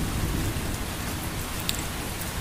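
Steady rain falls in a dense, even hiss of drops on surfaces, continuous and fairly loud with no voices.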